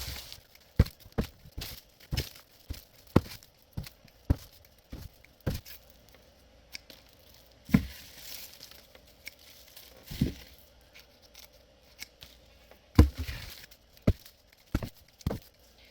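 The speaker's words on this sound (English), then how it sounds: "But for now, let's cut through some of these onions." A knife cuts through soft onion necks while curing onions, giving a run of crisp, close snips and thuds at irregular intervals with quiet pauses between.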